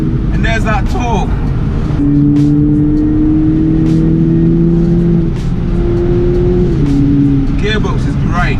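A 2020 BMW Z4 G29 accelerating, heard as a loud steady engine drone from inside the car that rises slightly in pitch, with people talking briefly at the start and end.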